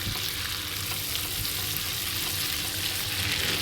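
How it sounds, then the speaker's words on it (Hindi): Ginger garlic paste frying in melted butter for restaurant-style butter chicken, a dense, even, close sizzle running unbroken throughout, no talking. "उसी के साथ हम यहाँ पर 1 चम्मच भर के अदरक लहसुन का पेस्ट ऐड करेंगे और इसको 1 मिनट तक अच्छे से भून लेंगे"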